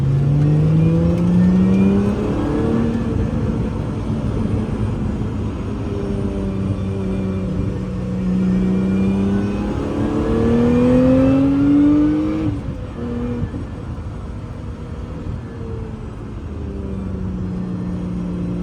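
A Lotus Emira's engine revs hard through rising gears on a race track, with a steady high supercharger whine from right behind the cabin riding over the roar close by, continuous and loud.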